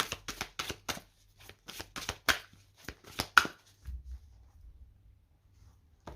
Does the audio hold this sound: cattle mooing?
no